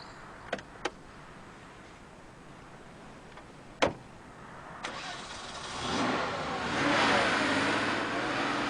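Porsche 964 911 Turbo with a 3.6-litre turbocharged flat-six: a few sharp clicks and a thump, then the engine cranks and fires, settling into a steady, rising idle that builds in the last few seconds.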